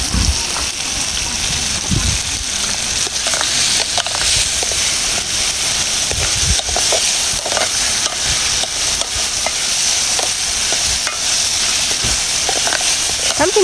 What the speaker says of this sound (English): I will stir this so that it doesn't stick.